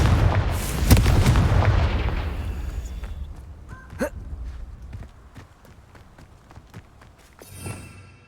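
A Confringo spell detonates in Hogwarts Legacy, a heavy booming blast that rumbles and fades over a few seconds, followed by scattered footsteps and small impacts.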